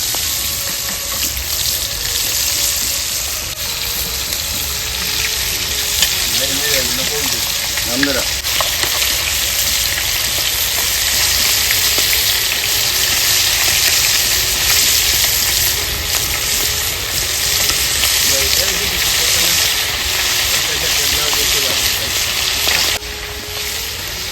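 Fresh-caught fish frying on a hot tawa, giving a loud, dense, unbroken sizzle that holds steady throughout, close up, with a few faint clinks underneath.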